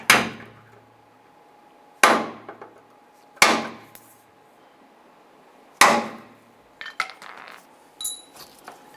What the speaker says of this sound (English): there are two plastic rivets that have a little punch, have a little pin in the middle. Use your punch.